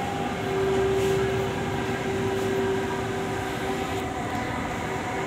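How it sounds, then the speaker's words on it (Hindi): A nearly empty Delhi metro train rolls along between Anand Vihar and Jafrabad, giving a steady close rumble of the car with a faint sustained tone and no voices. "देखिए इस वक्त हम आपको जाफराबाद की साइड जा रहे हैं मेट्रो से।"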